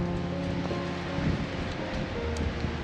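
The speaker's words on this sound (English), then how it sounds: "It's windy already." Steady outdoor wind buffeting at an RV campsite in a trip from North Georgia to Arizona, a continuous broadband roar with low rumble and faint rustling, constant in strength throughout.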